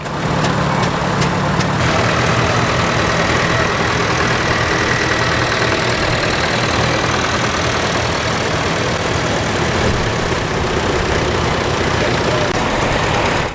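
An International W4 tractor engine runs steadily while pulling an F21-6 side hay rake, a loud, continuous low rumble that holds even throughout, with a few brief clicks near the start.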